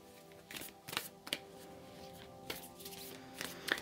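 Tarot cards are riffled and shuffled by hand in a series of soft, irregular flutters and taps, close and alone.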